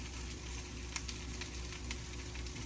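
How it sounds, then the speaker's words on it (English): Leftover cooked catfish sautéing in butter in a pan, a faint steady sizzle with occasional soft crackles and stirring sounds. "flip the fish. Like I say, we just sauteing it in butter"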